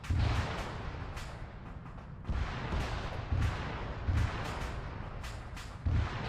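Heavy explosions and gunfire roll through an ARMA III battle as a T-72 tank is destroyed, with five or six deep booming blasts at irregular intervals over a constant rumbling din of distant fire.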